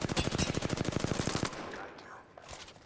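Rapid automatic gunfire from Apex Legends rattles loud and close in a dense burst for about a second and a half, then cuts off into quieter game ambience with a few faint distant shots.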